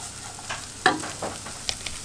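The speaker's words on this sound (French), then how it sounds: "je le fais cuire à la poêle pour qu'il soit bien voilà, un peu grillé quoi en fait" Small crumbled chorizo frying in a skillet, a soft continuous sizzle broken by a few distinct scrapes and clacks of a utensil stirring the pieces, close and quiet with no voices.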